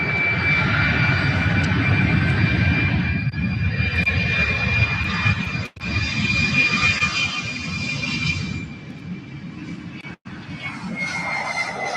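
A Boeing 767 jet airliner roars steadily on departure at an airport, loud and sustained with a high engine whine and broadband rumble, briefly cut twice.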